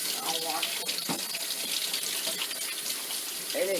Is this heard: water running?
yes